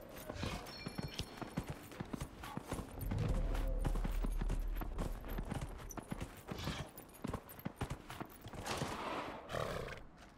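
Horse hooves clip-clop in rapid rhythmic strikes while riding in the game Dragon Age Inquisition, with a heavy rumbling stretch midway and a whinny near the end, fairly close and unaccompanied by talk.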